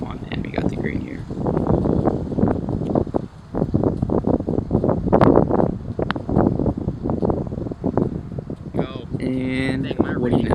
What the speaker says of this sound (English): This whole course is pretty much straight into the wind, like the entire round.